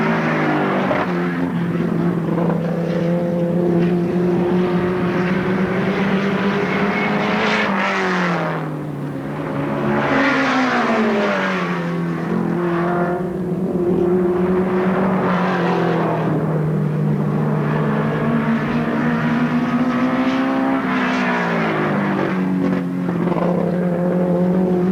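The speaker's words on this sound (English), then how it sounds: "a really good race between these two fairly quick hot rods here this afternoon" Two fairly quick hot rods race at Alwalton Raceway in 1983, their engines roaring close and loud, pitch climbing and sagging repeatedly as they rev through the bends and pass by.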